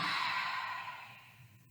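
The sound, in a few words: deep exhale during yoga breathing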